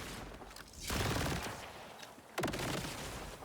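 A Maliwan Plasma Coil SMG fires in Borderlands 4 in two bursts of dense, crackling energy shots, the second starting with a sharp hit, with quieter noisy game sounds between and after.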